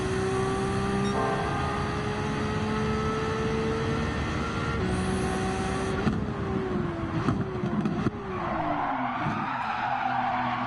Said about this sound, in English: It's the beauty of this car. To slide into that turn like that.